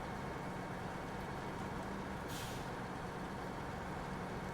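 Heavy Tayga truck on all-terrain tires in SnowRunner, its engine a steady low broadband roar as it powers through mud, constant and moderately loud, with a short hissing burst midway.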